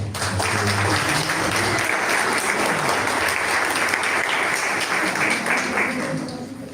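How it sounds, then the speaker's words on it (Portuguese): A church congregation applauds steadily through a morning worship service celebrating Pastor's Day, a dense, sustained wash of clapping from many hands that fades slightly at the end, with some speech mixed in. "Vamos aplaudir."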